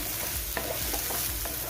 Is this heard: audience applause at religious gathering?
no